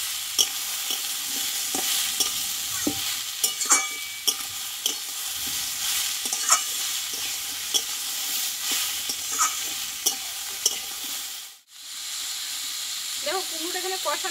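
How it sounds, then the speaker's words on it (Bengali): Pumpkin and potatoes stir-fry in a pan without spices, a continuous close sizzle broken by repeated spatula clicks and scrapes. The sound drops briefly near the end, then returns with a faint voice. "আমি আরও কিছুক্ষণ কুমড়োটা একটু কষিয়ে নেব।"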